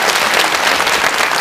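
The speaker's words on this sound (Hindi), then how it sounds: "एक एक बारी करताली ध्वनि से हम स्वागत करेंगे सबकी।" An audience at a spiritual global festival gathering claps to welcome arriving participants, producing loud, dense, continuous applause from a large crowd.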